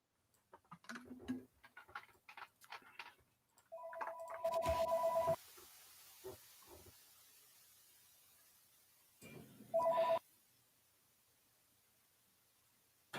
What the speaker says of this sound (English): I have the phone ring and I can't find the